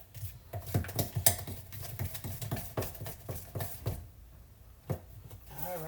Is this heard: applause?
no